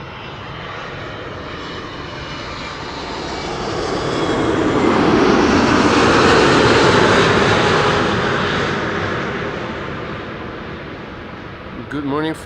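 A 25-year-old airliner arriving from Newark lands at Amsterdam Schiphol, its jet roar building to a loud close pass in the middle, then fading away, with a brief voice at the very end.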